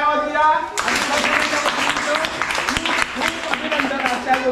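Clapping from an audience at a school Dahi Handi event, loud and continuous for several seconds, with voices and cheering mixed through it.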